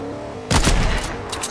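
Gunfire in the Fortnite video game erupts suddenly after a brief quiet lead-in, a loud burst of shots that keeps ringing and crackling to the end of the short moment.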